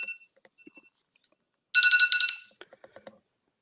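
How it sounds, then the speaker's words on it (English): A phone calendar alarm rings in one loud, bright burst of repeated electronic tones lasting under a second, with faint clicks and taps before and after in an otherwise quiet room. "that was my alarm"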